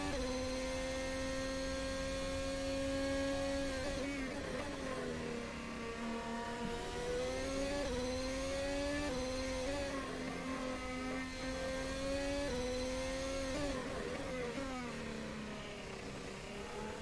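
Race car engine from a racing video game, Premier Series Australia round, holding a steady high-pitched drone through a flying lap, with repeated gear shifts and revs rising and falling, heard alone without talk.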